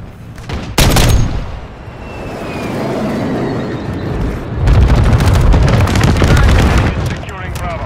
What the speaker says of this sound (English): Vulture 6-1, inbound for bombing run.